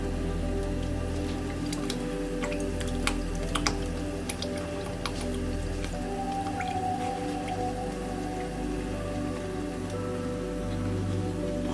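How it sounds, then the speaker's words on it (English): Coconut milk is poured into a simmering stew, giving soft wet drips and squishy splashes over a low steady background hum, with no talking. "now I'm going to add the rest of the coconut milk"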